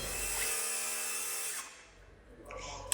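A hydraulic lift raises workers up beside a motorhome being finished. A high, steady whirring motor whine runs for over a second and then cuts off, followed by quieter mechanical noise.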